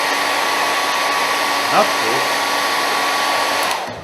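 A hair dryer blows steadily for about four seconds, heating a vinyl wrap on a battered old vape mod, then cuts off near the end; a brief voice and some handling noises sound under the constant roar.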